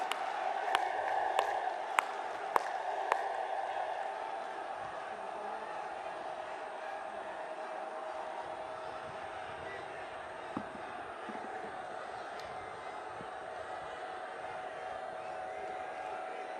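Rally crowd at PM Modi's Parivartan Rally in Lucknow, Uttar Pradesh, applauding and cheering from afar, with a few sharp claps early on and then a steady, distant wash of crowd noise throughout.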